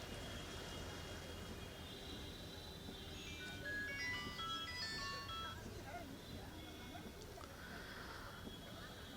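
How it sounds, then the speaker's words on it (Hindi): Dense, continuous vehicle traffic noise near Patna railway station after monsoon rain, with horn-like tones rising over the rumble while a person talks throughout. "गाड़ियों का शोर आपको सुनाई दे रहा होगा क्योंकि स्टेशन का इलाका है"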